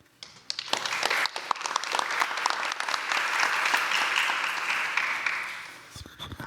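Loud, sustained applause from a showcase audience at a spring studio discovery event, swelling quickly after a few scattered claps, holding steady for several seconds, then thinning out near the end.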